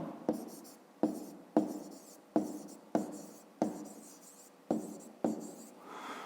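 Pen or pencil writing on paper while working a fifth-grade maths exercise: eight short, sharp strokes in a steady rhythm, close and fairly loud, with no talking.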